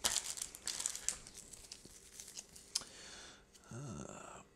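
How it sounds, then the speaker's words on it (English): Crinkling plastic packet of a disinfection swab from a Norwegian Arctic field ration, handled in close, quiet bursts of rustle and crackle, with a brief tearing-like scrape near the end. "So we've got some disinfection swab. It's like a little wet nap type deal."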